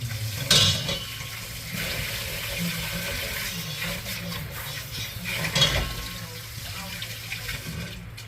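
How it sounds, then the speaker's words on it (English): Mixer blades are dropped into a sink of water while making a fruity cheesecake, giving a steady watery splashing and sloshing with a couple of brief clanks. "I remove these blades and put them in the water."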